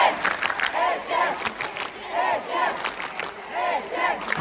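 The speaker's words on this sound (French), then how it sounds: "On entend les Etienne et Etienne dans la foule." A crowd at a go-kart race, the GP Explorer, chants in rhythmic, repeated bursts of voices rising and falling at a moderate distance, with engine noise faintly underneath.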